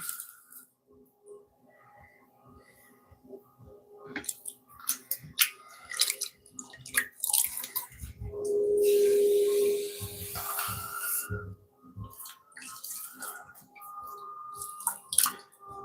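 Water is cleaned out of the inside of a pot on a pottery wheel, with close wet scraping, dripping and sponging sounds, scattered knocks and a sustained swishing stretch in the middle.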